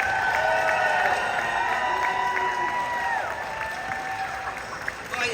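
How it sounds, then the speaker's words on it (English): Audience in Hall H at a Hocus Pocus cast Q&A during Monsterpalooza 2023 claps and cheers steadily, a loud dense wash of hands with scattered whoops, while a host talks over it on a microphone. "Don't stop clapping, Hall H."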